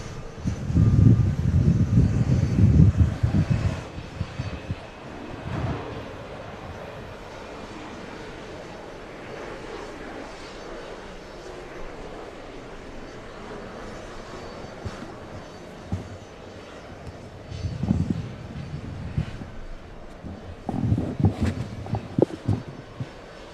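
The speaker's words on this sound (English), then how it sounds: "Oh, Josh, Brazilian's taking off." A Brazilian airline's Embraer E190 jet takes off at JFK airport, its engine roar rising loudly at first, easing to a distant rumble, then swelling again near the end.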